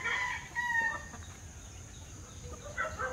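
A rooster crows among clucking chickens on a farm during a morning health check of the flock, with loud bursts at the start and again near the end over a quieter, busy background.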